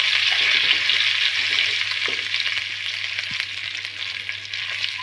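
Mustard seeds, cumin and curry leaves sizzle in hot oil with a bright, steady hiss that slowly eases, broken by a few faint pops and taps.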